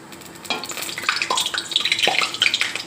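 Hot oil bubbles hard in a frying pan over high heat, a bright, dense crackling sizzle with quick popping bursts that grow busier over a few seconds, close and loud with no talk.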